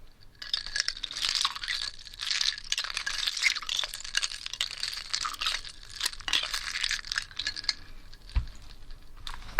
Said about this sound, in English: One last little stir.